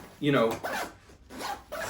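Zipper on the side pocket of a GORUCK GR1 rucking backpack pulled open in a few quick rasping strokes, close and fairly loud, with a short pause between pulls.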